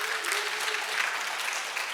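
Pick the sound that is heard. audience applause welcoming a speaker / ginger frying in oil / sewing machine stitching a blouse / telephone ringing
audience applause welcoming a speaker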